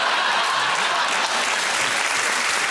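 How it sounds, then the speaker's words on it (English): Studio audience at a British TV comedy panel show bursts into loud, sustained applause, a dense unbroken wash of clapping with no one speaking. "give that round of applause to Ed, Sarah and Andy."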